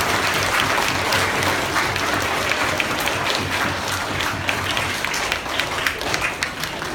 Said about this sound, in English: let's give a round of applause to our volunteers